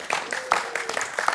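An audience claps briefly at a city council meeting in Bellevue, a short burst of scattered, moderately loud handclaps from a room of people.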